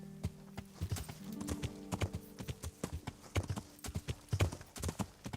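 Horse hooves clip-clopping in the medieval video game Kingdom Come: Deliverance, a close, rhythmic run of sharp hoofbeats at a brisk gait with faint tonal game sound underneath.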